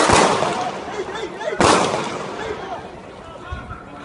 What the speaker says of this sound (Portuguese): Durante a troca de tiros